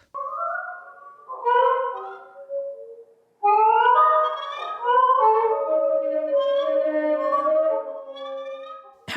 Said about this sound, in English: This is how rats communicate with each other on the New York subway,